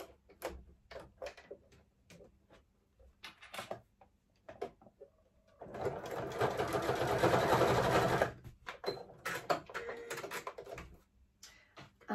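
Sewing machine stitching a short line on the fabric ear of a child's bunny bag, a steady whirring run of about three seconds set between quieter clicks and handling taps.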